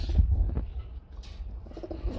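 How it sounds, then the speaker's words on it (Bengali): A female pigeon gives soft, low cooing pulses close by, with faint rustling in a quiet space. "এটা হচ্ছে মাদি কবুতর"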